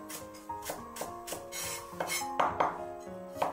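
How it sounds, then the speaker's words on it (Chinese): A knife mincing peeled ginger on a cutting board, a quick run of uneven, close-up chops and clicks with small gaps between them. "再来切点配料，去皮的生姜给它切成末"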